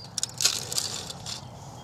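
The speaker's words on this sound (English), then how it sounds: "We can break off a little bit of the edges and the buttercream." Brittle, carbonized cake edges with buttercream and caramelized sugar glass are broken off by hand, giving a few sharp crackling snaps followed by softer crumbling rustles, close and fairly quiet.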